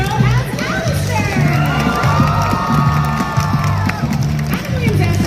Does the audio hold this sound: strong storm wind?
no